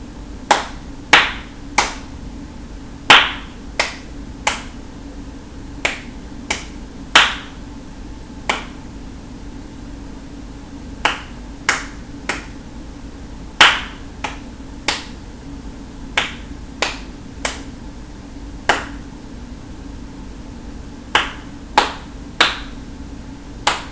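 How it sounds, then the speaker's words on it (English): Sharp single hand claps ring out alone in a deliberate rhythmic pattern, played through three times with clear gaps between the groups, crisp and close in a quiet room. "The first pattern goes like this, and I will repeat it 3 times to be a total of 30 claps."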